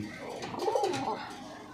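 A single soft, low coo of a wild pigeon rising and falling over about a second, close by, with faint background noise.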